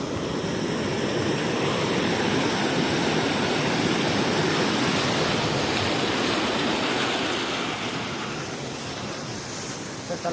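Water pours through a dam's spillway as the reservoir overflows, making a loud, steady rushing roar that holds constant throughout with no voices.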